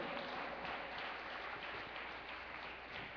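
A church congregation applauds their pastor, a dense, steady burst of clapping from many hands that fills the room for a few seconds.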